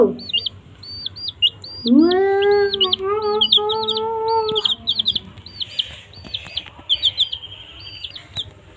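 Chicks cheep in rapid, high repeated peeps throughout, while a hen clucks loudly nearby midway through.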